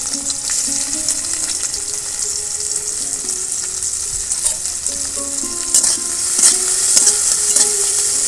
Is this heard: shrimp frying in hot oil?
yes